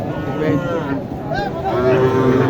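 Cattle low at a busy livestock market in Naogaon, one long drawn-out moo rising near the end over a dense crowd of chatter close by.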